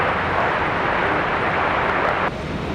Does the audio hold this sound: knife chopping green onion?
no